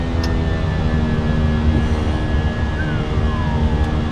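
Fenix A320 with IAE engines in Microsoft Flight Simulator, flown as a jetBlue flight, runs at climb thrust with a loud, steady jet roar and a sustained high whine, with a faint tone bending downward late on.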